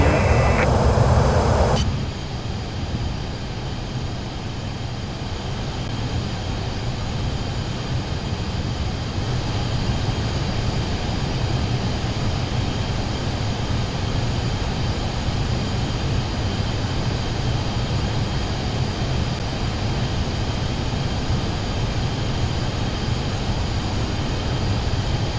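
Steady, loud engine and airflow roar inside the cabin of a Pilatus PC-24 private jet in flight, a continuous broadband drone after a brief louder start, with no talk.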